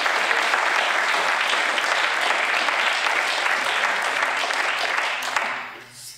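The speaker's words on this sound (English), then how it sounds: "Give Claire a big round of applause." A room full of people gives a big round of applause for a volunteer named Claire at a hypnosis performance talk, dense steady clapping for about five seconds before tapering off at the end.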